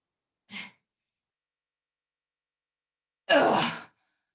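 Two breathy exhalations during a workout, a short puff and then a longer, heavier sigh-like breath a few seconds later, close and isolated against silence.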